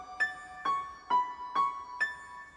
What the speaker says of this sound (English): This next sound I chose from the Goodie Bag, this acoustic piano.